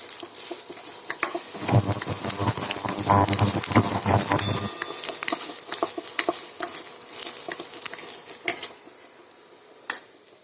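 Chopped onion roasting in a pan while being stirred, with scraping and crackling that is loud and busy early on, then quieter intermittent stirring with occasional sharp clinks near the end.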